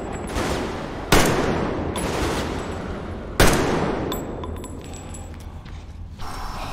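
Gunfire in the video game Metro Exodus: several sharp shots ring out at irregular intervals over a loud rumbling background, followed by quieter mechanical clicks and rattles.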